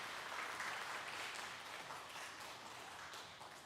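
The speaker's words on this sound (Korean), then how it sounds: "우리 감사의 박수 다 같이 하겠습니다" A church congregation at a Sunday worship service applauds together, a soft, steady wash of clapping heard from a distance and fairly faint, with no voices over it.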